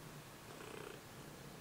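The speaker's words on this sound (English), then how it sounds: "Why are you purring?" A cat purrs softly and steadily at close range, a faint low rumble with no other sounds around it.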